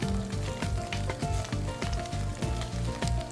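Sea scallops searing in a hot pan, a loud, dense crackling sizzle with rapid pops, close and continuous throughout with no talking.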